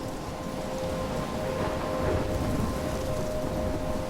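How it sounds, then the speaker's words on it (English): Steady, dense rain pours through a stormy scene in the video game Life Is Strange, with a constant wash of drops and a low rumble of thunder rolling beneath it, no voices present. "I'm trapped in a storm?"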